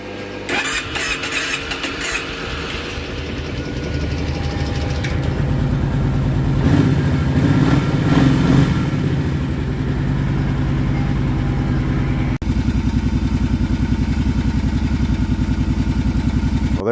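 A Kawasaki Brute Force 750 ATV engine, freshly carb-cleaned, starts and runs steadily close by, a loud uneven chugging idle that swells as it revs midway and settles back to a steady rumble.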